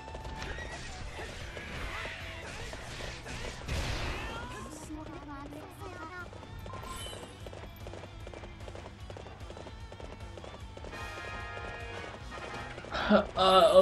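Horse galloping in the Hyrule Warriors game, rapid clip-clop hoofbeats with whinnies amid game music and effects, while a player talks over it.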